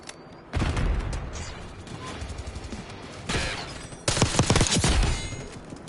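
Rapid gunfire from Call of Duty Black Ops 6 comes in several loud bursts, a sharp opening volley followed by quieter rattling shots and then two more intense clusters of shots near the end.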